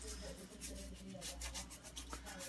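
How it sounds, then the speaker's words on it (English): A boiled deer skull is scrubbed with quick, repeated rasping brush strokes, close and quiet, in an uneven rhythm. "So I'm going to give this a good scrubbing."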